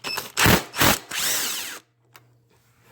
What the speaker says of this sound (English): An impact makes it way quicker.